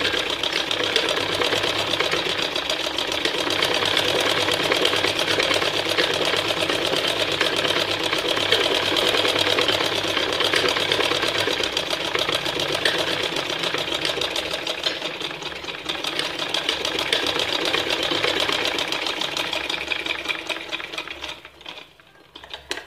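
Sewing machine running steadily while stitching a second seam along a salwar hem (mohri), a continuous close mechanical whir that holds loud for most of the stretch before tapering off near the end.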